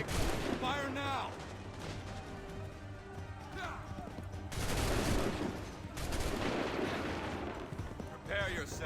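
A musket volley crackles in the Assassin's Creed 3 video game, with bursts of massed gunfire and commanding voices barking orders over a noisy battlefield.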